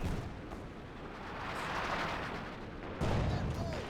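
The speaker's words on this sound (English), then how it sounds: "Pack 40, destroy some sandbags there." Pak 40 anti-tank gun in the Company of Heroes 2 strategy game firing amid dense battle noise, with a heavy low boom near the end over a continuous rumble of distant artillery and gunfire.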